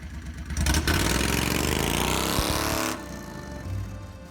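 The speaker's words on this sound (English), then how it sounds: "this car is very loud and it has an open exhaust system" A small Renault car with a 670cc Predator engine and open exhaust revs loudly and raspily, holds for a couple of seconds, then drops back to a rough idle.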